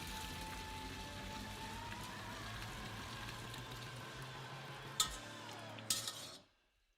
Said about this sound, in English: can be drained through a colander